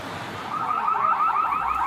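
A car alarm wails in a repeating rising warble, loud and close, starting softly and swelling to a steady blare.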